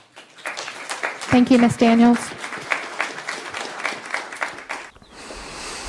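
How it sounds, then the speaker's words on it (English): Applause from a crowd at a county council meeting rises as a spread of clapping under a voice giving thanks, then fades away near the end. "crowd applauded."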